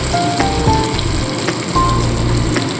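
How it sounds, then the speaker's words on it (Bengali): Ground spices fry with ginger-garlic paste in a pan for a spinach and prawn dish, giving a steady, close sizzle with faint clinks, and no one speaks. "এই গুঁড়ো মশলাগুলো সম্পূর্ণ দিয়ে দিলাম দিয়ে মশলাটা একটু কষিয়ে নেব"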